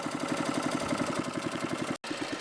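A repaired Killdozer bulldozer's engine runs steadily at idle, a loud low, rhythmic diesel chug that continues without pause apart from one very brief dropout near the end.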